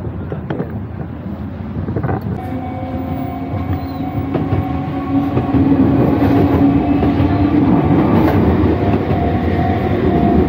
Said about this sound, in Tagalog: Kung pamilyar sa inyo yung train station, naharangan lang ni Kuya, pero ayan.